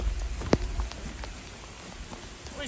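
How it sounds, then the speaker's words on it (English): Rain pattering steadily on a concrete work site, a soft constant wash of drops with a few brief louder knocks near the start, no talking over it. "Got a little rain today."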